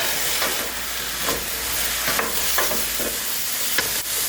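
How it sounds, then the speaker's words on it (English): Eggplant cooks in a pot, a steady hiss of sizzling underneath occasional spoon scrapes and light knocks as it gets a quick stir. "Just gonna give that a quick little stir"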